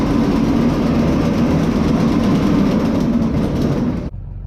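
A cobbled-together old Ford Model T roadster engine runs under its own power, a loud, steady rumbling drone close by that cuts off abruptly near the end.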